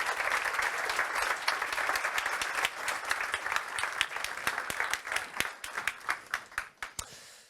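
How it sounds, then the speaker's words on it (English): A large youth summit audience in Stockholm applauds the Minister of Defense and the State Secretary, a dense wash of clapping that thins toward the end into a few distinct, sharper claps before fading out. "Give them a round of applause"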